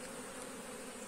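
Honeybees buzzing over a brood comb frame pulled from a hive, a dense, steady drone of many insects close by, continuous and fairly quiet with no voices.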